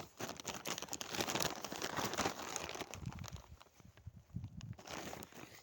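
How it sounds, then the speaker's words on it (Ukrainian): Quiet crinkling and rustling of a plastic bag holding fishing lures, irregular bursts of crackle that rise and fall over a few seconds, close by with no talking. "Зараз я дістану приманки з пакета."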